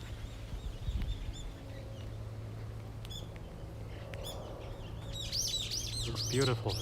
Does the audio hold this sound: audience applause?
no